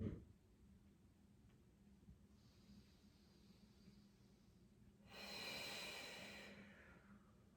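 Breathing during a gentle yoga exercise for hip release: a soft snort-like inhale at the start, quiet stillness, then a long audible breath from about five seconds that gradually fades, close and faint, with no talk.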